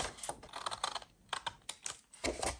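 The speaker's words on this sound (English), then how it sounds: "So I'm gonna cut here right where the folds are, and I'm gonna cut away the excess flap on either side." Scissors snip away excess paper flaps along the folds of a handmade junk-journal piece, a quick run of crisp, close cuts in irregular bursts with short pauses between them.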